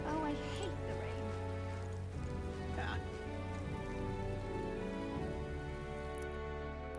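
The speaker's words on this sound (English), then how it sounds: "oh, I hate the rain." Steady rain falls across a town in the video game Metaphor: ReFantazio, a continuous soft patter layered under the game's music, with a voice speaking briefly.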